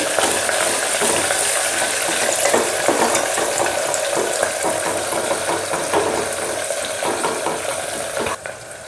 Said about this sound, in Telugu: ఉల్లిపాయలు వేస్తున్నాను ఉల్లిపాయలు కొద్దిగా ఏగనివ్వండి